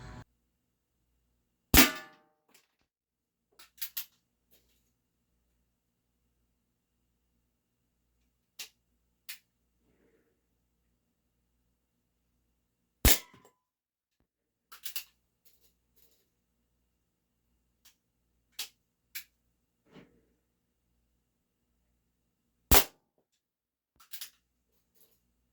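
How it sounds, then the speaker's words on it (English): High-velocity Crosman lead-free pellets strike a target in a quiet outdoor range, a sparse series of sharp, isolated cracks and ticks spaced several seconds apart, with faint smaller clicks in between. "I occasionally hear one of the sabots kind of ricocheting back towards me"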